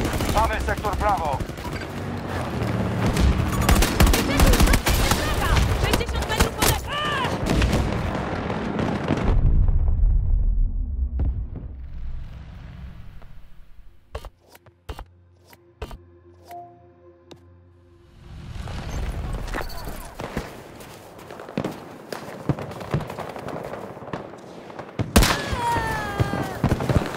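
Bursts of rapid gunfire and explosions from the game Battlefield 2042, loud and dense, with a quieter stretch of sparse shots and mechanical sounds in the middle.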